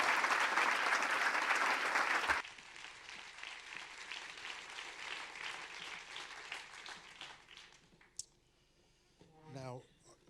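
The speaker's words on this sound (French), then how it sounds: "Et nous souhaitons tous vous applaudir encore une fois plus pour ce magnifique documentaire." An audience at a film festival documentary screening applauds loudly for about two seconds, then the clapping drops off abruptly to a quieter, thinner patter of claps, followed by brief clicks and a short voice near the end.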